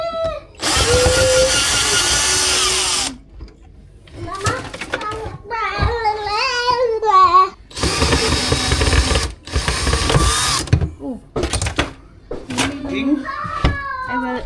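A power drill whines in loud bursts while removing a screw from a kitchen fitting, the whirring runs separated by pauses filled with a voice and other talk nearby.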